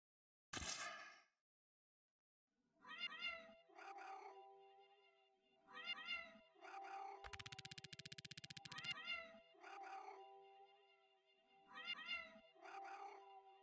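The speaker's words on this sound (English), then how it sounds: "You can listen to the meow meow intro to this." Cat meows form the intro of a song, with repeated drawn-out, yowling calls arriving in rhythmic pairs, a loud burst at the start and a buzzing sustained tone in the middle.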